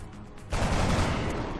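A gunshot in the turn-based strategy game XCOM: The Long War: a loud, sharp burst with no lead-in, followed by a sustained, heavy roar of gunfire noise that holds steady to the end.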